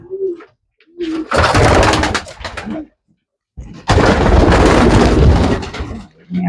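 Homer pigeons of an old retained bloodline coo softly up close in two short bouts, set among loud rustling or flapping bursts that dominate the moment.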